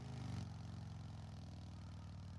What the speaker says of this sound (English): This engine's not sounding the greatest.